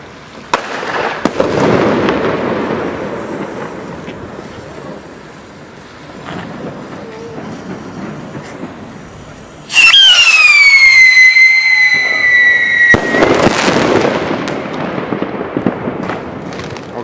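New Year's Eve fireworks outdoors: a rumbling crackle of distant bursts, then a loud shrill whistling rocket with a falling tone, followed by booming explosions and a crackling barrage close by.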